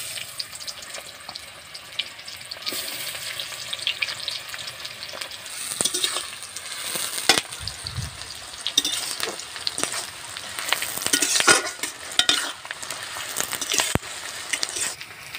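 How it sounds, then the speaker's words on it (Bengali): Chopped onions sizzling in hot oil with bay leaf and dried red chilli in a Bengali home kitchen, a continuous crackling fry with occasional stirring scrapes and clatter, close and fairly loud. "পেঁয়াজটা ভাজা হয়ে গেছে"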